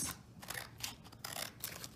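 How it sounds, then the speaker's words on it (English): Scissors cutting down the center of a stapled paper packet, a series of close, crisp snipping strokes in an uneven rhythm, with no voices. "Cut directly down the center with your scissors."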